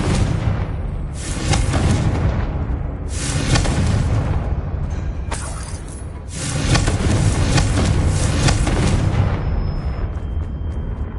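Spell blasts from the Confringo fire curse in Hogwarts Legacy: a long run of heavy, booming explosions in close succession, loud and dense, with brief dips between bursts and no voices.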